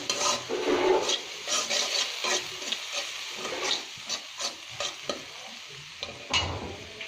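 Onion masala seasoned with salt being stirred in a frying pan: repeated scraping stir strokes over a steady oil sizzle, close and fairly loud, with no talk.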